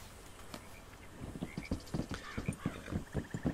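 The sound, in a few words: horse hooves in video game Red Dead Redemption 2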